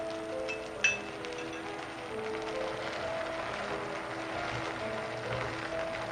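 A cornflour mixture is stirred in a bowl on the stove, with one sharp spoon clink early on and then a soft, continuous swirling sound at low volume.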